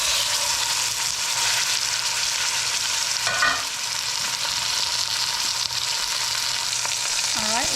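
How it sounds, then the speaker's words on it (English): A deer roast sears in hot oil inside a Dutch oven, giving a steady, loud sizzle and crackle that holds evenly throughout with small pops. "Our oil is hot enough, so let's get this roast into this Dutch oven."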